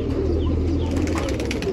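Pigeons kept by a longtime fancier in Nashik coo softly and flap their wings nearby, a low murmuring coo over steady background noise with brief rustling wingbeats.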